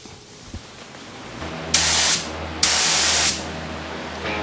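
Two long, loud hissing bursts of a spray gun painting a 1953 GMC, each about half a second to a second, over a low steady compressor hum.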